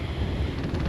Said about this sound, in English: actually a lot of wind. It's very gusty and the gusts are pretty big.